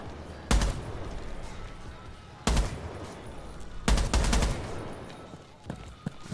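Gunfire in Rainbow Six Siege on the Favelas map as a camera is shot and destroyed: three loud, sharp bursts spaced a second or two apart, set against steady game ambience.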